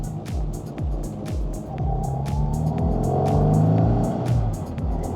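A classic Mini driving along on a cold day gives a steady, close engine drone. Its pitch drifts up and down gently as it rolls, and no one talks.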